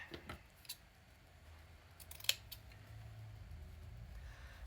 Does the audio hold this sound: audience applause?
no